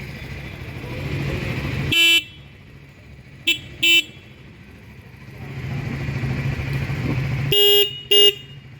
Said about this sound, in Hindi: आपको एक बार दोनों बाइक से हॉर्न भी चेक करा दे रहा हूँ।